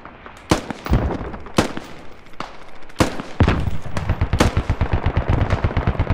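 Gunfire in the Squad video game's Middle East Escalation mod: loud, sharp shots ring out at irregular intervals over a rumbling battlefield. A rapid automatic burst rattles near the end, and there is no talking.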